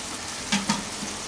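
Soybean chunks go into a pan of frying vegetables: a short, close sizzle with two quick stirring scrapes in the middle, no voices.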